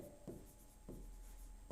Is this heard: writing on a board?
yes